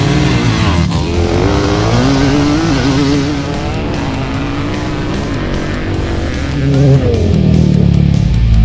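Two quads, a Honda TRX250R and a Polaris Predator 500, race side by side in second gear, their engines roaring loud and steady up close, revving higher as they pull and surging again near the end.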